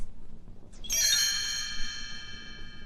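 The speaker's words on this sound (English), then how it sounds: "You will know it is time to turn the page when you hear the chimes ring like this." A bright chime rings once to signal a page turn in a read-along storybook, a clear metallic ding that rings on and slowly fades, heard alone.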